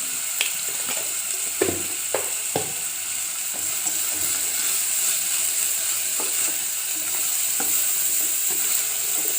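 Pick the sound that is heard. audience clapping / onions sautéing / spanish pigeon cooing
onions sautéing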